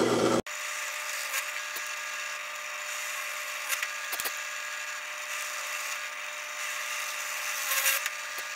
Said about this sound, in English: let's drill them.